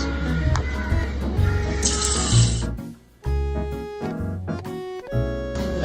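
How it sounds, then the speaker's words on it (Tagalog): Rice is rinsed under running water from a tap, a loud, close splashing stream that shifts in pitch as the bowl fills, with a brief pause before it starts again. "Huhugasan ko na ng pangalawang beses."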